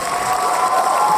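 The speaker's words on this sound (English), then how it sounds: "Make some applause for that." A crowd bursts into loud, steady applause mixed with cheering and shouts, a brief dense wash of clapping with no gaps.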